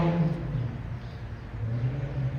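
A car engine revs somewhere in a residential neighborhood, a low, fairly faint rumbling drone heard at a distance without talk.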